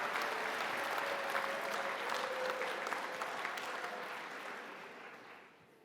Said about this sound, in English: Please give the cohort a round of applause.